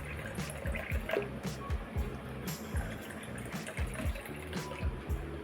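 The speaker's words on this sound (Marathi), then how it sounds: "थंड पाणी टाकायचं आहे याच्यामध्ये." Cold water pours into a mango panha drink, a close, steady gurgling stream with bubbling splashes into the liquid, continuous and alone.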